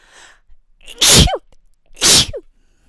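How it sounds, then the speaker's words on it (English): Two loud, sharp human sneezes about a second apart, each preceded by a quick inhaling build-up, close and clear with no talk around them. "I feel like sneezing."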